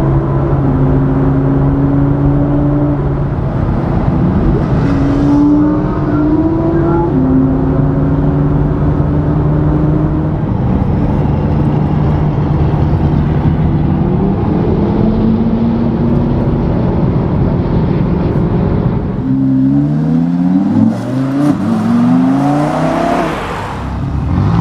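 An Audi R8 and a McLaren 570GT supercar drive on roads near the Harz Mountains, giving a loud, continuous engine drone that shifts through gears and swells with a rising rev near the end.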